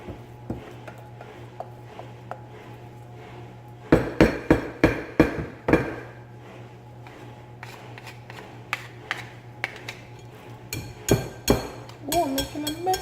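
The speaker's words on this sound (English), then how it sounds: "I'm just going to use a spoon and incorporate the sweet potato really good in here" A spoon clacks and scrapes against a bowl while sweet potato is folded into cornbread batter, coming in bursts of sharp, close knocks separated by quieter stretches under a steady low hum.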